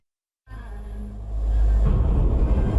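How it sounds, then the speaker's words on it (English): Sudden explosion inside Manchester Arena at the end of a concert: silence breaks into a loud, low boom that keeps rumbling, then swells into a roaring wash of crowd noise and echo. "That's the sound of the explosion that rocked Manchester,"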